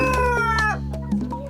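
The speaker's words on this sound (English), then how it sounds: "First up, George's chickens." Kienyeji chickens cluck and a rooster crows loudly up close, with several short calls overlapping.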